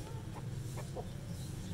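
Soft clucking from desi hens, a few short calls over a low steady hum, fairly faint and not too close.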